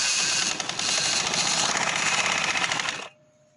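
A sewing machine runs steadily while stitching a V-neck on a garment, a dense, fast mechanical rattle heard close for about three seconds before it stops cleanly into near silence.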